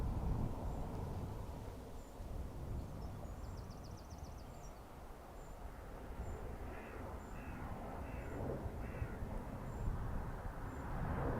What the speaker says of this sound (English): birds having a field day down there